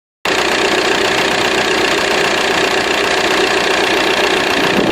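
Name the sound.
loud diesel engine running and knocking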